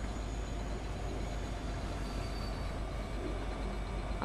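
A train rolls along in a video game, a steady dense rumble with faint metallic tones, continuous and even in level with no talking.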